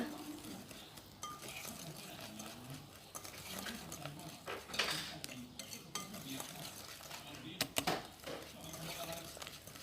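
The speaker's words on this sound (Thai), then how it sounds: "ไม่ต้องตีจนฟูนะคะ ไม่งั้นช็อตเบดวันนี้เราจะปั้นยากนะ" A whisk beats a butter mixture in a bowl for strawberry-filled shortbread, making faint, irregular scraping and clinking strokes against the bowl.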